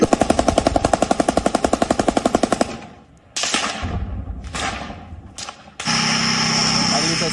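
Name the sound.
gunfire during fighting in Mariupol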